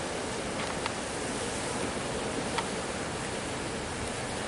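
A high, fast-flowing creek rushes steadily nearby, a dense, even wash of moving water with no voices.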